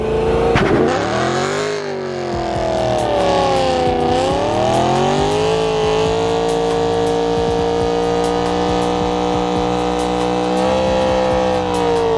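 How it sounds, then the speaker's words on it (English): A car with new rear tires wanted holds a loud, close, continuous engine roar through a burnout. The pitch dips and climbs as the revs are worked, then settles into a sustained high drone with no talking. "I needed new rear tires, so I decided to do a big boy burnout."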